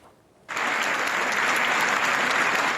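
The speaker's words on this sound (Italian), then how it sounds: "Applausi ed emozioni hanno accolto ad Agrigento al Palacongressi Gino Cecchettin, il padre di Giulia" Loud, steady applause from a large crowd at the Palacongressi in Agrigento starts abruptly after a brief quiet moment and keeps going without letting up.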